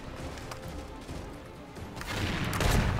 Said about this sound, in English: It's definitely a rocket onto me